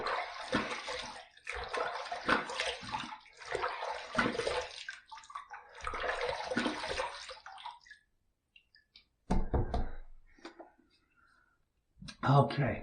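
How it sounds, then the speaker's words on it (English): Tap water runs in bursts during rinsing while shaving, with splashing and pauses under close, quiet talking, followed by a near-silent gap and a few short gushes. "let's rinse."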